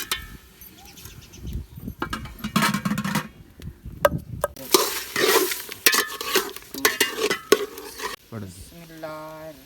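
Cold chicken is stirred and reheated in a pot over a village clay stove, with loud, irregular scraping and clanking over a soft sizzle and brief voices near the end.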